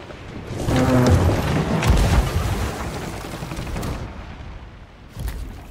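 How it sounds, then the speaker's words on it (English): Fireworks explode in the Sea of Thieves pirate game as a dense, rumbling burst of booms and crackles that swells, holds for several seconds, then fades before one last blast. "fireworks or whatever"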